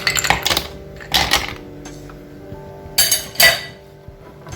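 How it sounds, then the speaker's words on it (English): Cubes of ice clink and clatter as they drop into a blender jar of pineapple and banana milkshake with honey, in two bursts of sharp, close rattles separated by a pause. "I'm gonna add my cube ice"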